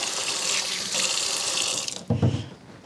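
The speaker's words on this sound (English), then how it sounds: "So I want a little bit of extra water in here anyway." Tap water runs steadily into a container while preparing BBQ chicken for freeze drying, a close, continuous hiss for about two seconds that cuts off, followed by a short clunk and handling noise.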